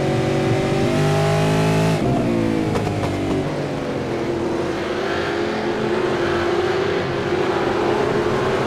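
V8 race cars racing at Okayama in a racing video game: loud engines rev and shift through the gears, with a sharp downshift and then a sustained high whine as the cars accelerate away.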